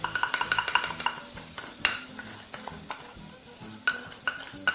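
Garlic and ginger sizzle in hot oil while a utensil scrapes and taps against the pan in quick, uneven strokes, close and fairly quiet.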